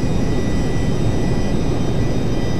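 Steady, loud jet engine roar from a Rockwell B-1A Lancer in Flight Simulator X, throttled far back at about 150 knots, a constant broadband rumble with a faint high whine running unbroken throughout.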